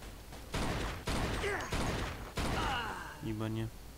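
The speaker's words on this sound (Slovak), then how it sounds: "A ide sa strieľať." Several loud gunshot bursts from a Thompson submachine gun in the game Mafia 2, separated by short gaps, with someone talking between and over them.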